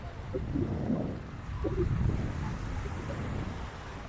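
Sea surf on the Baltic coast at Darłówko rolls in a steady, broad wash, with wind buffeting the microphone throughout.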